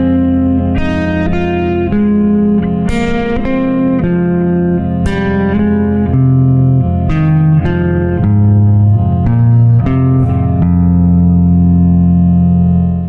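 An electric guitar plays larger descending leaps across the strings in one position, a run of picked, ringing single notes with effects and reverb, loud and continuous, no voices.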